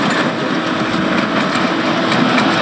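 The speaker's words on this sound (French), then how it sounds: "des pelleteuses vrombissantes." Excavators roar steadily at a road construction site on a rural route, a continuous dense engine drone with no pauses, loud and close throughout.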